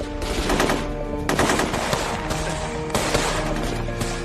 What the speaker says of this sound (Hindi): मेजर अवस्थी की टीम काउंटर फायरिंग कर रही है